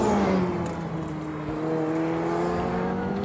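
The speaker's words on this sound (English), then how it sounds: "the power steering makes a little bit of a weird noise" A 3D-printed car's power steering and electric motors whine in steady tones that rise slightly in pitch, heard close from inside the cabin with a constant rolling drone underneath.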